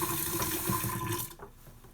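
Warm water runs and splashes steadily while a model locomotive shell is scrubbed with a toothbrush, a close, continuous wet wash that cuts off abruptly near the end.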